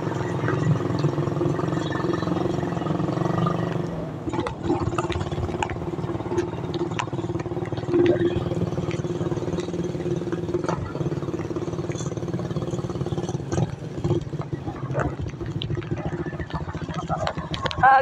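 Motorcycle engine running on a wet, slippery broken road toward a cemetery, a steady low rumble throughout with clattering and splashing bumps, under occasional talk.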